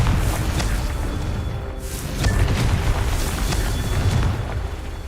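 Confringo blasting spell in the Hogwarts Legacy video game, heard as a loud, rumbling, boom-heavy roar of explosions that sustains throughout with bursts and whooshes, and no talking.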